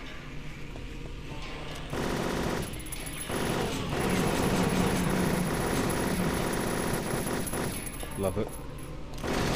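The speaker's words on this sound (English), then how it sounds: "Okay, so we will do the machine gun." Sustained machine gun fire in Silent Hill 3, dense rapid bursts running through most of the stretch with brief breaks, loud and close, and a voice speaking briefly over it.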